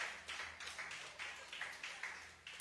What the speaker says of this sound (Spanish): Alguien que lo aplauda, hermano, con vida en esta hora